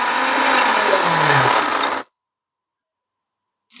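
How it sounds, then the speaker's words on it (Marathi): A kitchen mixer grinder grinds coconut and onion into a Marathi masala paste, a loud steady whirring drone lasting about two seconds. It then cuts off abruptly into silence. "थोडं खोबरं घालूया आणि एकत्र वाटूया"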